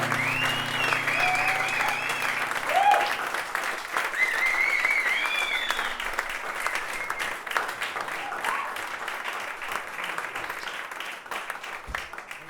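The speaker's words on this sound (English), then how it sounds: "Give him a massive round of applause." A live concert audience breaks into sustained, dense applause that fills the room for the whole stretch, slowly thinning toward the end, with a few voices and whoops mixed in near the start.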